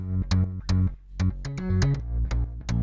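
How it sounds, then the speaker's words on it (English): Three layered synth bass lines play a punchy, rhythmic line of short stacked notes, thick low end with bright attacks, no voices. "And altogether, the three basses sound like this."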